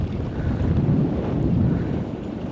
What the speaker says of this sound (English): Look at that wind blowing all the way over there.